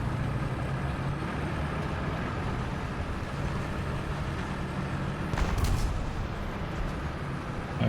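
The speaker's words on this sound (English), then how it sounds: "that STRV engine scared me because it sounds like a Soviet engine." Low rumbling drone of an STRV tank engine in a tank combat game, steady and loud throughout, with a brief heavier surge and clank near the end and no talking.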